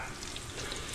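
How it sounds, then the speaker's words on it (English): Chicken cutlets frying in hot olive oil for chicken Parmesan sandwiches, a steady close sizzle with faint bubbling, alone without talk. "Now we're gonna go ahead and fry these cutlets."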